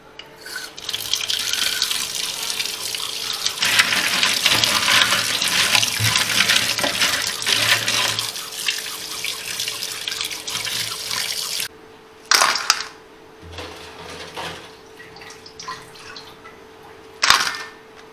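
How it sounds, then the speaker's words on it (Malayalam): A tap runs steadily over a crab while it is rinsed and rubbed by hand in a sink. The flow is broad and hissing with scrubbing sounds, then the tap goes off, leaving a couple of brief splashes. "ഇനി നമുക്ക് ഞണ്ടൊന്ന് കഴുകിയെടുക്കാം."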